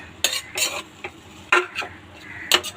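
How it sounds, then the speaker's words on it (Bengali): A spatula scrapes and knocks against a pan while banana flower and potato are stir-fried, sharp clattering strokes in irregular bursts over a faint sizzle, close by and without speech. "এরপর এটা ভালো করে আলু আর মোচাটা দিয়ে এভাবে ভালো করে 5 মিনিট ভেজে নিতে হবে"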